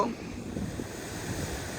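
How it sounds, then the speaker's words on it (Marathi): Steady rush of ocean waves at a beach in the Konkan region, a soft, continuous wash with some wind noise, heard faintly and alone. "गाईस लाटा बघा कशा"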